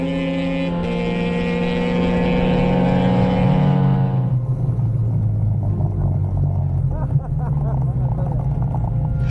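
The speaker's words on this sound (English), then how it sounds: "Jed just ripping past Dale once again for the final time in this little experiment" A Yambretta RD350, a Lambretta scooter with a two-stroke engine, rips past with a loud, high buzzing whine that drops in pitch as it goes by, then trails off into a lower, fading drone.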